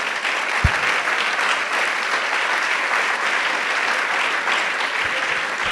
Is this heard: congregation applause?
yes